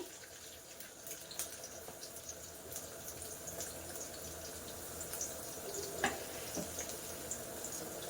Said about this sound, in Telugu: ఈ ఆయిల్ మరిగిపోయిన టైంలోనే నేను ఆనియన్స్ అయితే వేసేసుకుంటున్నాను